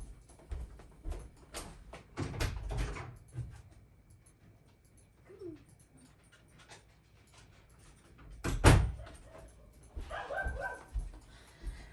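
A puppy shut in a room barks and yips in short bursts, muffled and somewhat distant, with quiet pauses and a whimpering whine between the barks.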